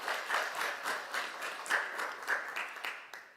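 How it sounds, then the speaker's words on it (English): Audience at an annual school debate event applauding, a moderate crowd of clapping hands with slightly uneven swells, fading toward the end. "So a round of applause for everyone."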